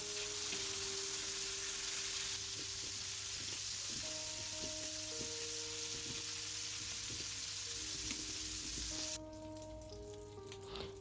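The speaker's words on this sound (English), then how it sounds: "So I'm frying my pork." Pork fries in hot oil in a pot with a continuous, hissing sizzle. A few faint tonal hums sit underneath, and the sizzle softens slightly near the end.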